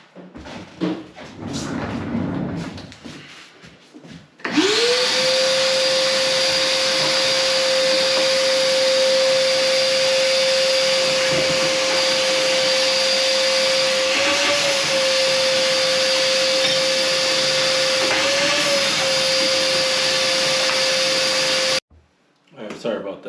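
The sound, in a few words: belt sander running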